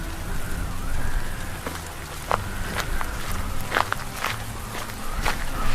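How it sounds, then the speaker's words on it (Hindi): Footsteps walking out into heavy rain and cold wind, steady pattering rain with scattered sharp drips and irregular close steps splashing along. "मंगेश तेज बारिश और ठंडी हवाओं के बीच काम पर जाने के लिए निकल पड़ता है।"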